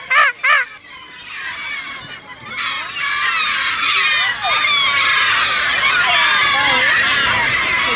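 Seagulls call around a woman feeding them bread, a few loud close cries at the start, then a dense, overlapping chorus of many gulls squawking without pause.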